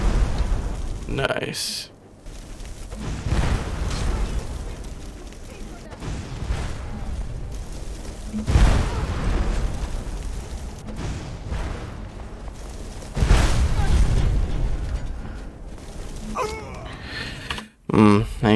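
Elemental burst spells go off in the fantasy video game Skyrim, several booming blasts spread irregularly across the scene, with a voice speaking over the game noise.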